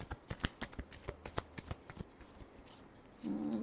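A deck of tarot cards is shuffled by hand in a quiet room, a quick run of crisp riffling snaps about a dozen times, then a brief rustle at the end.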